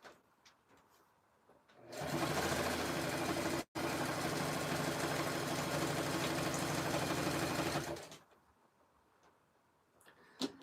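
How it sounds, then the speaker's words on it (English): Sewing machine stitching the last fabric strip of a jelly roll rug, a loud, close, rapid mechanical whir running steadily for about six seconds with one tiny pause, then stopping into quiet room noise. "I've got about 20 inches left to sew."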